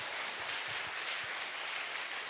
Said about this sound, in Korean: 한번 격려의 박수로 우리 축복해 주시겠습니다